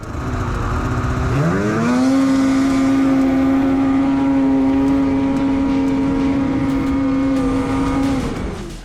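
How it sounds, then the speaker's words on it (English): Two 2023 Polaris Boost snowmobiles, a VR1 and an Assault, drag race side by side: engines rev sharply upward, then hold a loud, sustained high-pitched whine for several seconds before easing off, with no talking. "So we were doing drag racing side by side."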